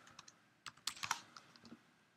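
Short burst of typing on a computer keyboard, a handful of quick, light key clicks in an uneven rhythm, close and fairly quiet with no talking.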